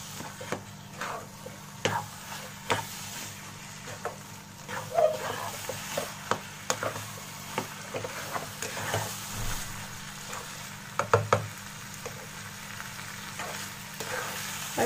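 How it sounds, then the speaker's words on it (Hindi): Aloo keema stir-fried in an open pan, a low steady sizzle broken by frequent sharp scrapes and clicks of stirring, close and moderately loud, with no voices. "हम इसे दो मिनट ऐसे खोल के चलाते हुए फ्राई करेंगे।"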